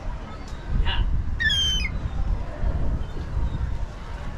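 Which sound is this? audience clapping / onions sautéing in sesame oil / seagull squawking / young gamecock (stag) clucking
seagull squawking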